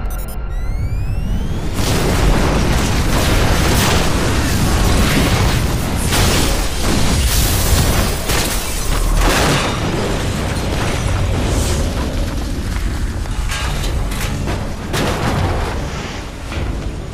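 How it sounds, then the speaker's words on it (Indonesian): A huge explosion in a film erupts as a loud roaring blast, followed by repeated bursts and rumbling booms that keep going for many seconds before easing slightly toward the end. "Terjadi sebuah ledakan yang sangat dahsyat."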